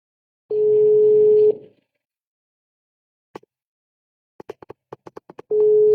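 Phone call going unanswered: a steady ringback or busy tone sounds twice at the start and end, with a run of short keypad dialing beeps between them and no talking.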